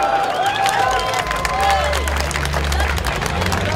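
A crowd at a political rally in Poznań claps and cheers in a loud, sustained wave, with shouting voices and a babble of talk mixed through the applause.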